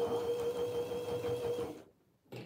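Sewing machine stitching binding onto a quilt, a steady close mechanical whir with a constant tone that runs for most of the moment, then stops abruptly into near silence before a faint restart.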